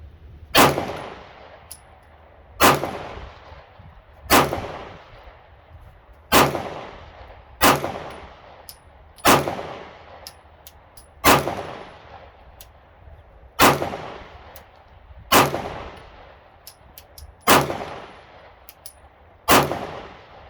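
A Glock 19 Gen 5 pistol fires brass-case ammunition in nine loud, sharp shots spaced about two seconds apart. Each shot rings out with a short decaying tail, and no one speaks.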